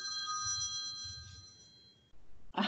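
An office telephone rings quietly behind a talk, sounding a steady electronic tone that stops abruptly, followed by a short burst of noise.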